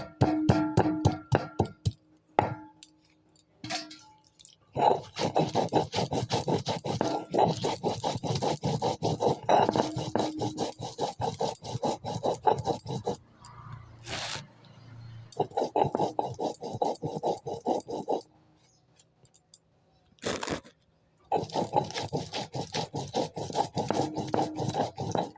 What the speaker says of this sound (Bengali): আদা আর জিরে আমি একসঙ্গে বেটে নেব।